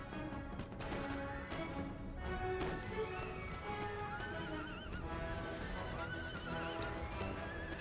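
Horses neigh and whinny amid galloping hooves and crashing battle noise in the Napoleonic-era strategy game Empire: Total War, a dense, continuous cavalry din with no pauses.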